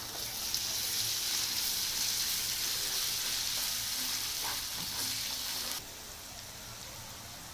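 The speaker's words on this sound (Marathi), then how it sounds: "आता आपण ह्याच्यात अद्रक जे ठेचून घेतले जाडसर ते टाकूया." Coarsely crushed ginger fries in hot oil in a pan after garlic has been roasted, giving a steady bright crackling sizzle that cuts to a quieter hiss partway through, with no talk.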